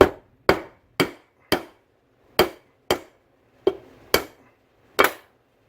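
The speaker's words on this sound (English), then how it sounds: "set that in place and give it some taps" A hammer taps a bolt set through a Lambretta scooter's kickstart bushing to drive it out. About ten sharp metallic knocks land at irregular intervals, each ringing briefly before it cuts off, close and clear with no talking.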